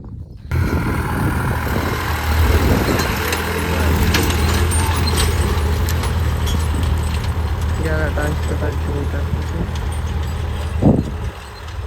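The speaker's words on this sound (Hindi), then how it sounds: "ऐसे चल रहा है जैसे रोड पे चल रहा हो" A New Holland 3630 tractor runs steadily in a field, its engine a continuous low drone held close and loud throughout, with rattling and clanking over the top and a brief louder knock near the end.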